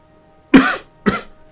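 A person with a lingering cough coughs twice, close to the microphone: a sharp first hack followed half a second later by a shorter, lighter one.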